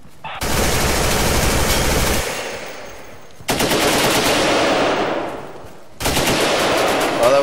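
Sustained automatic gunfire from the video game Insurgency comes in three long, loud, close bursts with brief gaps between them, and the rattling trails off at the end of each burst.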